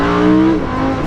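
A Lamborghini Huracan accelerates with a loud, close engine roar, its steady tone shifting slightly as revs change over about a second, with no talking.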